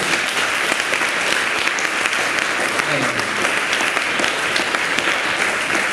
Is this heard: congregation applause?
yes